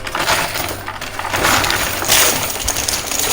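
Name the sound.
coin pusher machine dropping quarters and chips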